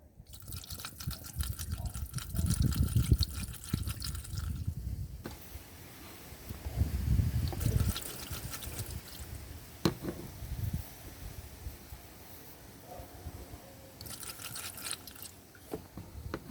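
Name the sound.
pouring Seafoam treatment from a bottle, 2006 F150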